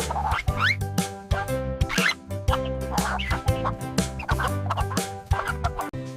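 Chicken clucks and squawks in quick, uneven bursts, close and fairly loud, with a steady droning tone running beneath them.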